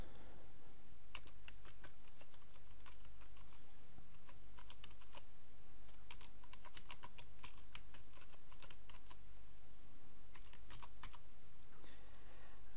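Rapid typing on a computer keyboard, bursts of light clicking keystrokes with short pauses, close and steady over a constant low hum.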